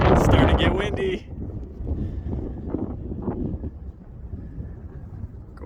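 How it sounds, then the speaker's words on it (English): Wind buffets the microphone on a mountaintop, loud and roaring for the first second, then continuing as a steady gusting rush. "It's starting to get windy."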